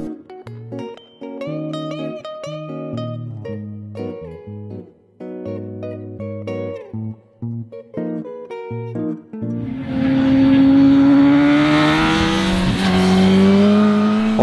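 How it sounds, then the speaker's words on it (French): Music-like tones play first. Then a Suzuki GSX-R 1000 sport motorcycle with 185 hp roars in, its engine revving high and pulling hard, loud and close, with the pitch climbing over the final seconds. "Le moteur, bien rempli, marche aussi très fort dans les tours."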